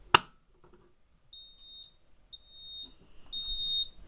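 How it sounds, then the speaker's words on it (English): A sharp click, then a Simplex 4006 fire alarm panel sounds three evenly spaced high electronic beeps, each about half a second long, fairly close and clear. "Goes into alarm like it should."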